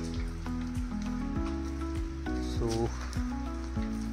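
Rain patters steadily over a Konkan village during the monsoon, a soft continuous hiss with scattered drops, under tonal music and a brief voice.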